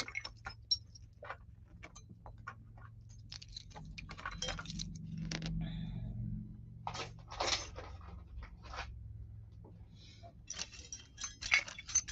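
Metal keys jangle and click as they are tried one after another in locks, scattered close rattles and ticks over a quiet room, with no talking.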